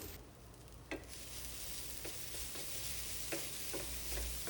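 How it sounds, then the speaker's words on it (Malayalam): Potato pieces stir-cook in a pan with a quiet continuous sizzle, while a utensil scrapes and taps against the pan every second or so. "നന്നായിട്ടൊന്ന് ഇളക്കി ഇതൊന്ന് വേവിച്ചെടുക്കണം."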